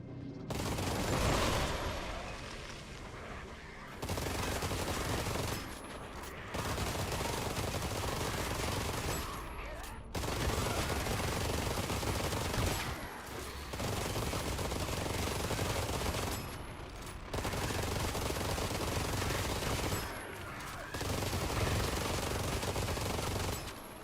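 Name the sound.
SMG gunfire in roguelike shooter video game Armatus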